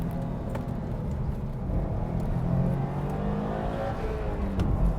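2018 Subaru WRX STI Type RA driven through a fast corner: loud, continuous engine drone with the pitch rising and falling as it accelerates, plus tire and wind noise, heard from inside the car.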